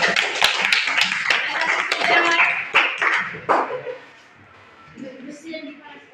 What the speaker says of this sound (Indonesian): Oke, tepuk tangan dulu untuk dia.